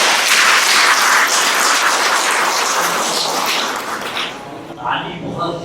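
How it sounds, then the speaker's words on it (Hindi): Students in a classroom clap their hands together in a loud, dense burst of applause that gradually thins and fades, with a few stray claps and murmuring at the end. "ताली बहुत जरूरी चीज है"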